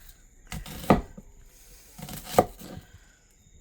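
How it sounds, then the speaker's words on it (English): A knife cuts onions into thin rounds, giving two sharp chops on a cutting board about a second and a half apart, close and clear against a quiet background. "you're going to cut the onions into thin rounds"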